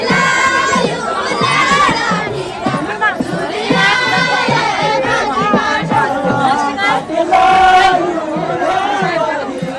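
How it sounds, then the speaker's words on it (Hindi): A large crowd sings chanchari folk songs together outdoors during the Nanda Devi Raj Jat pilgrimage in heavy rain, loud and continuous with many overlapping voices, shouts and chatter throughout. "आज भी लोग चांचरी गाने में लगे हुए हैं।"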